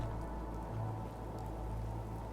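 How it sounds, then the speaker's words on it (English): Rain in the video game Fallout 4 falls as a steady, soft patter over a constant low drone, even and unbroken, with no talk. "Oh, it started raining."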